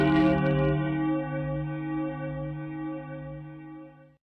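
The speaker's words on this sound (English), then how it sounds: "There's the bell. That's the market bell." A stock market opening bell rings out as one strong struck tone that holds and slowly fades over about four seconds, rich and sustained, with no voices over it.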